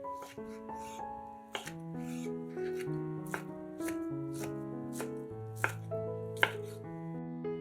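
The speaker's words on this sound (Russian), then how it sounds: "100 грамм свиной грудинки тоже нарезаем кубиками" Knife taps on a board in an uneven rhythm, cubing smoked pork belly, close and fairly soft, over a quiet steady background hum.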